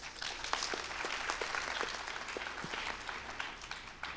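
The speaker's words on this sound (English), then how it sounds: "So give a big applause to Stephen as well." A panel discussion audience gives steady, moderately quiet applause, a dense patter of clapping that holds evenly for about four seconds with no voices.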